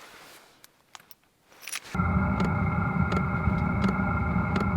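After a few faint clicks, a diesel tent heater's motor whirs on abruptly and settles into a steady, close droning hum with a high whine and periodic soft ticks.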